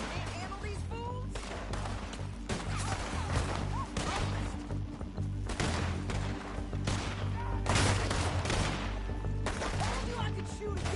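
Gunfire in Red Dead Redemption 2, with scattered sharp shots and bursts cracking out irregularly over a shootout, mixed with game sounds and character voices.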